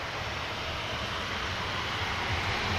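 An Airbus A321neo at Manchester Airport, heard as a steady broadband roar of jet engine noise from a distance, continuous and unchanging over a few seconds.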